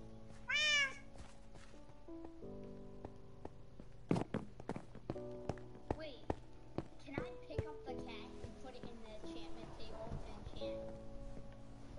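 A cat meows in a PS4 video game, a short rising cry early on, followed by in-game footsteps and clunks under a steady musical bed with a player talking.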